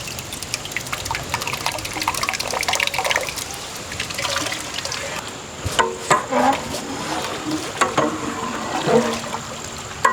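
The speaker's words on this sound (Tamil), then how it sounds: "1 லிட்டர் மட்டும் தயிர் சேர்த்துக்கலாம்." Liquid yogurt pours and splashes into a large pot of mutton ghee rice, with a steady wet rushing sound, some drips and sloshes, and a few louder splashes near the end.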